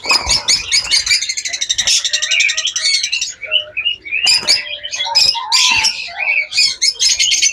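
Pet birds in a breeding cage give rapid, close chirps and trilling calls. The bursts are loud and overlapping, with short gaps between them, and no voices are heard.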